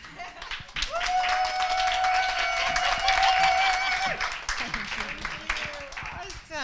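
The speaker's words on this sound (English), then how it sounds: "One more big round of applause. Take your bows." Audience applause and clapping at the close of a motivational talk, a dense sustained burst that swells, holds, then gradually thins out, with a steady tone running through its middle.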